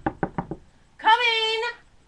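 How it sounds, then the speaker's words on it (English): Four quick knocks on a front door, close and crisp, followed by a short voiced call in reply. "Oh, I hear her at the front door."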